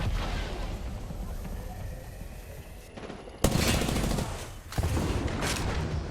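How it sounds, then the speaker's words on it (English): Gunfire in Apex Legends during a pro league match, rapid bursts of automatic weapon fire and booming shots heard at moderate distance, pausing briefly then resuming harder and louder near the end. "Now they're just free firing like crazy."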